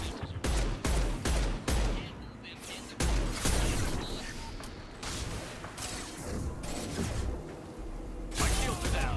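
The Blood Pack pistol firing in Mass Effect 2, a string of punchy shots in uneven bursts with a mechanical clatter around them, loud and up front, with talking over the shots.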